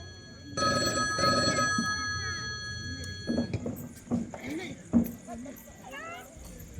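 A telephone rings in repeated bursts of bright bell tones during a Tamil Pongal festival stage play, followed by scattered thumps and stage noise.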